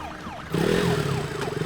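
An ambulance siren wails in a Hindi-dubbed action movie scene, its repeating rising-falling tone loud and close, joined halfway through by a heavy rumbling engine drone as the vehicle passes.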